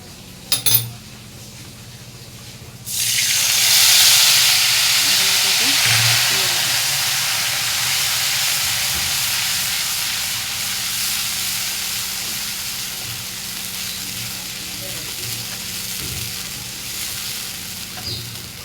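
Asafoetida and ginger paste hit hot oil in a Bengali home kitchen, bursting into a loud, steady sizzle after a brief quiet clatter, then easing slightly while frying continues alone.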